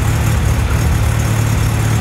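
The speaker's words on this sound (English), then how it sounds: "The engine is still cold, and we had an erratic engine" A cold car engine idles steadily during an exhaust back-pressure check, a loud, continuous low rumble with a rough, slightly uneven note, heard alone with no talking.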